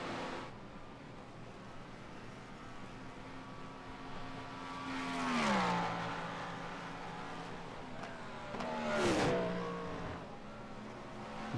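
GT3 race car engines drone steadily in a video game IMSA race. Two louder passes swell and then drop in pitch as cars sweep by around the fifth and ninth seconds, with other engines humming in the background.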